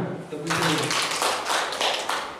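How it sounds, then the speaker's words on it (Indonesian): An audience at a business seminar in Madiun bursts into applause: a short spoken line, then a dense, steady spread of clapping for about two seconds. "Tepuk tangan."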